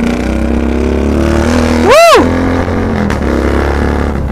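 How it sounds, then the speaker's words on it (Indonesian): Yamaha Scorpio custom chopper motorcycle engine droning steadily, then surging loudly in one rising, sweeping burst near the middle before settling back to a steady run; no talking. "Kalau yang mau tahu tarikannya cuy, ini motornya enak banget sih buat ditarik"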